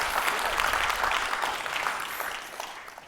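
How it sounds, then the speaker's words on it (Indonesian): Congregation clapping at a church sermon, a dense steady wash of many hands at moderate distance that thins slightly toward the end, with no voices. "Tepuk tangan dulu untuk Tuhan Yesus."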